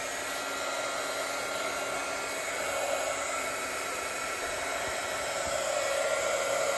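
Heat embossing tool blowing hot air over gold embossing powder on a leather notebook cover, a steady, loud, continuous whirring hiss like a small hair dryer running close by without pause.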